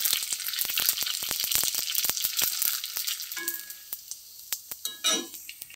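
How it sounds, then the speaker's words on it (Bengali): Fuchka puris fry in hot oil with a loud, dense sizzle and rapid crackling pops that thin out into sparser, scattered spits and bubbles toward the end. "দেখো আমার হয়ে গেছে ফুচকা ভাজা"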